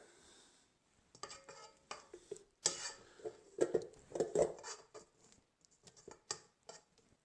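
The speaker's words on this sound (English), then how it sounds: "we're going to scrape the butter off the side of the bowl" A spatula scraping butter off the side of a mixing bowl: a series of short scraping strokes and light clinks against the bowl, irregular and fairly close, in a quiet room without speech.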